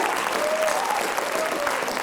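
A school audience at a student writers expo claps steadily for the young writers, a dense, even round of applause that fills the room for its whole length.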